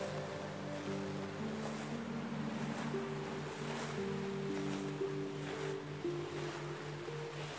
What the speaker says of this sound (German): Du hörst das Rauschen der Wellen, die an schwarze Felsen schlagen.